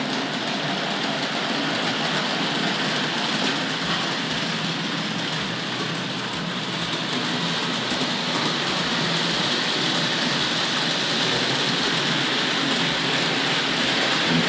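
A Hornby Dublo model train running on track with wagons behind: a steady, even rolling rumble that carries on without pause throughout.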